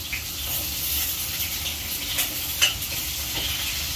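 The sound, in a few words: potatoes frying and being stirred in a pan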